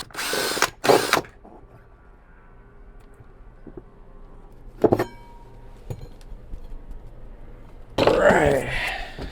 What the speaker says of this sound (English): the drill has been kind of sitting for maybe like 20 minutes. It's ready to go again.